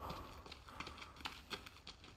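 Wild boars charge in the video game The Forest, a quick run of soft, hoof-like thudding footfalls, fairly faint against a low background.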